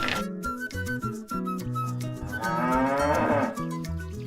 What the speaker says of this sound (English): Now we are back to look at Lydia's cows